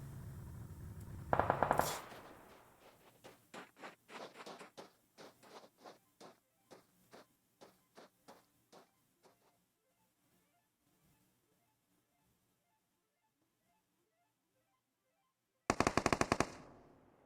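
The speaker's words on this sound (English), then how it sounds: "Piulina sending shots towards them, shooting at their vehicle right now" Bursts of automatic gunfire in a multiplayer video game scrim, a short loud volley followed by a long run of evenly spaced shots that fade out, then another sharp close burst after a pause.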